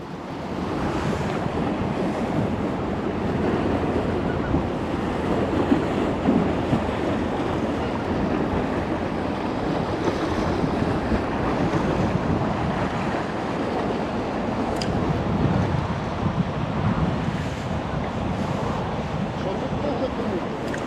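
Strong wind blusters across the microphone outdoors while fishing, a constant low rumble and roar with the wash of water close by.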